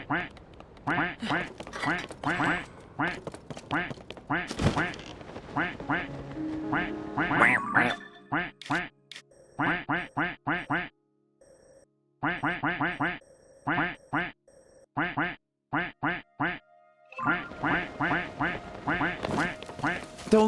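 Several people imitate duck quacks with their voices in a game setting, repeated nasal quacks in bursts and overlapping runs with short pauses between, loud and close throughout.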